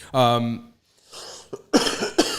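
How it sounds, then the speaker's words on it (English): A voice speaks, then a harsh cough bursts out with a second cough close behind, both near and fairly loud. "You're coughing a lot today"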